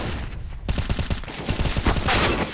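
In a competitive CS:GO match, AWP sniper rifle fire rings out among a burst of rapid, loud gunshots that start abruptly and continue in dense, repeated cracks.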